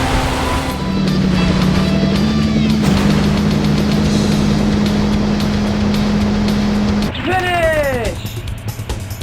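A rally car's engine drones at a steady pitch during a lap in Sega Rally Championship on the Sega Saturn, with a voice talking over it and a brief rising whine near the end.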